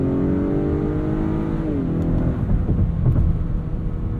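A 2021 Acura RDX A-Spec with SH-AWD accelerates out of a corner from low speed, its engine droning steadily and rising in pitch as it pulls, heard from inside the cabin with no talking.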